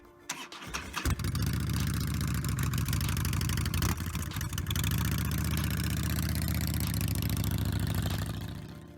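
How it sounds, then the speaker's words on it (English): A Harley-Davidson motorcycle engine cranks and fires, then settles into a deep, loping rumble that stays close and loud before cutting off. "That signature rumble. It's not just noise, it's a reminder that a Harley engine is alive."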